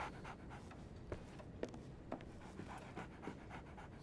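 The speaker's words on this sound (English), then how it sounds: "There's a pup here." A dog pants steadily in Sherlock Holmes: The Awakened, a soft rhythmic huffing held close and alone against a low game ambience, with a few faint clicks in between.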